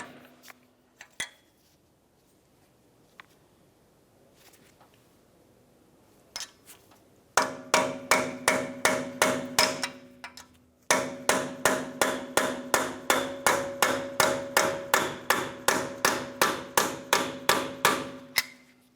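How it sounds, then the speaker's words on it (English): Metallic hammer blows on a punch driving an axle free from a wheel bearing on a 2009-2019 Ford Flex: a few scattered taps, then long runs of rapid, evenly spaced loud strikes ringing with a metallic tone. "a hammer and punch to break the axle free from the wheel bearing"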